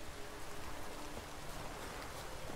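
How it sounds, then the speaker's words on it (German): Steady, soft patter of rain in the video game The Witcher 3, even and continuous with no voices, like a distant downpour heard from indoors. "Oh, es regnet leider immer noch."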